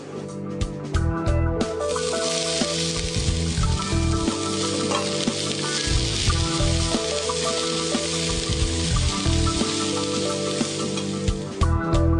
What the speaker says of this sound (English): So into a pan with some olive oil and the onions, and we're going to cook those until they're softened and fragrant.